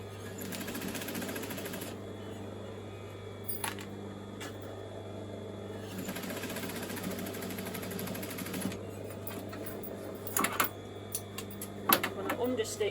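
A sewing machine steadily stitching the side pockets of a dress, a continuous close mechanical whir with brief pauses and back-tack stops, as a person talks alongside.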